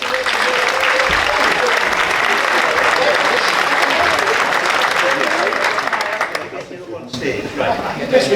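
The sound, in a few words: applause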